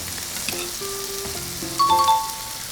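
Beef intestines sizzle on a grill at a Korean restaurant, a soft steady frying crackle with faint clinks and tones of dishes in the background.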